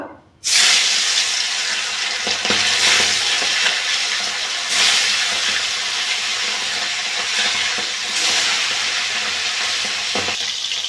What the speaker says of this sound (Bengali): তেলটা গরম হয়ে গেছে, মাছগুলো ভেজে নেব।